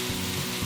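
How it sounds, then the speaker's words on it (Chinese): Potato pieces stir-fried in a pan for a vegan home-style dish produce a steady, close, dense sizzle that continues evenly without pause. "这时候可以把马铃薯放进来了， 把它翻炒均匀"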